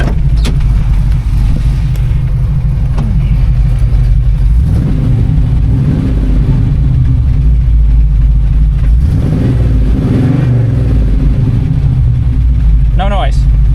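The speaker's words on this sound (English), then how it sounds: "Go ahead and rev this up." A 1979 Pontiac Firebird Formula V8 runs loud and close throughout, its engine revved up and down in a few swells over a steady idle, with people talking briefly over it.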